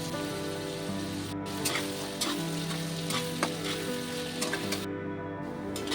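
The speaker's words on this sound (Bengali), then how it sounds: "ভালো করে পেঁয়াজগুলো ভেজে নেব।" Continuous, even sizzling of onions frying in a pan, loud and close, with occasional light crackles and scrapes throughout.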